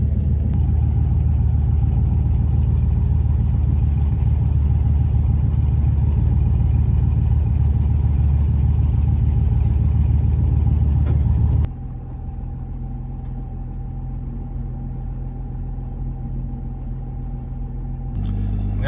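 A turbocharged police car towed home by a lawnmower, a steady close engine rumble and drone that drops abruptly to a quieter idle hum partway through, no talking.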